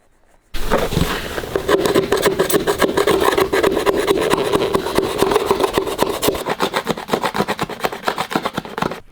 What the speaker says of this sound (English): Now if we rub this, comes clean off.